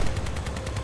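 Vehicle-mounted weapons fire in the combat game Crossout, a quick run of rhythmic booming shots, fairly loud and alone.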